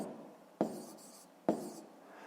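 A pen writes out a fifth-grade decimal rounding exercise, making two short scratchy strokes close up with quiet between them and no talk.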